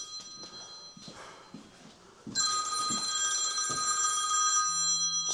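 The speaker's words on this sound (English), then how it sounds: "Hey up, my phone's going." A phone rings loudly with a steady, bright electronic ringtone that starts midway, following faint background knocks and rustling in a workshop where an electrical tester is being looked at.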